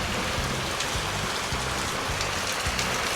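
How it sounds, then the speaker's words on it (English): Heavy rain pours down outside in a steady, dense hiss with a low rumble underneath, constant throughout with no voices. "It's really raining out."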